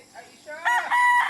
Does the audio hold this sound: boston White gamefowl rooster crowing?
yes